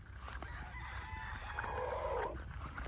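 At a poultry farm, a rooster crows at a distance over a low background of clucking chickens, the crow drawn out and faint, with no one speaking.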